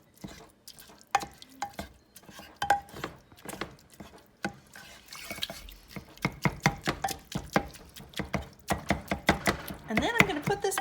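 Plastic mix-and-chop tool breaking up ground meat for tacos in a dish, a quick run of close, irregular scraping and tapping strokes that grow denser and louder toward the end.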